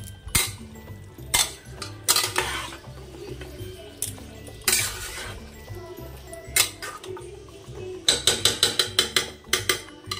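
Mutton is stirred and fried hard in a pan over a high gas flame. A metal spatula clanks and scrapes against the pan in irregular bursts, then strikes in a quick rhythmic run near the end.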